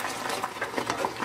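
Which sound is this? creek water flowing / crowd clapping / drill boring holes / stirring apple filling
stirring apple filling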